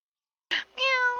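A cat gives a short, close meow in two quick parts, a brief nasal onset followed by a longer tonal cry, set in a quiet indoor room.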